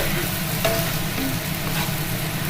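Onions sizzle and fry in a pan for doi chicken, a loud close steady crackle with occasional stirring scrapes and no talk over it.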